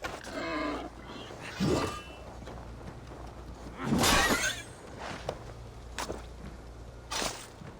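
A pig in the video game Assassin's Creed Valhalla gives a short squealing grunt near the start, followed by sharp impact-like thuds and clatter amid the game's background ambience.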